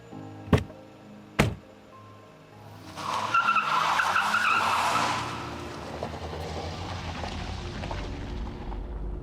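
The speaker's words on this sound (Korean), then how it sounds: "멀리 있는 승용차 한 대에 시동이 걸렸다." A car in a radio drama starts up with two sharp clicks. It then roars and skids loudly as it pulls away, and its engine keeps rumbling on afterward.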